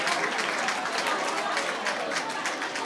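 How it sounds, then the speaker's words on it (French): An audience at the Miss Est Afric 2015 pageant evening gives a dense, continuous round of applause for the ten finalist candidates, with a voice carrying over the clapping. "On les applaudit bien fort, s'il vous plaît, nos 10 candidates finalistes."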